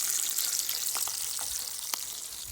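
Bacon sizzles in a pan at a campsite, a steady hissing crackle with occasional small pops, close and moderately quiet, with no voices.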